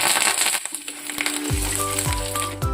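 Chana dal, cumin, asafoetida, dried red chillies and curry leaves fry in hot oil for a guava pickle tempering, a close, crackling sizzle punctuated by a few sharp metallic clinks.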